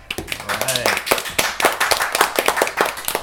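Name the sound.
applause for kids on panel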